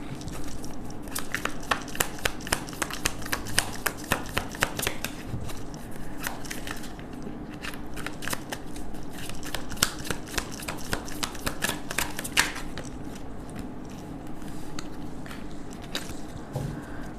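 Tarot cards shuffled by hand in a quiet room, a steady run of soft papery riffles and flicks that continues for many seconds, close to the listener with no talking over it.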